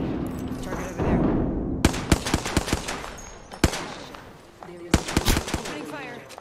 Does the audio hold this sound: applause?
no